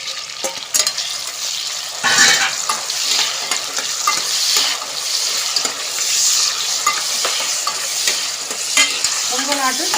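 Tomatoes sizzle in hot oil in a pan for Kongu-style sambar, a steady frying hiss broken by repeated scraping stirs of a spoon, close and fairly loud with no talking.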